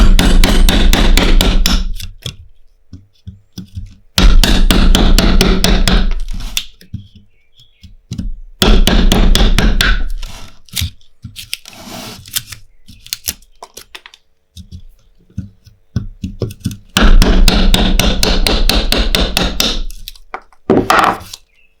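A hammer strikes a chisel to cut a mortise in wood, with loud, sharp taps in rapid bursts separated by pauses where quieter scraping and light knocks are heard.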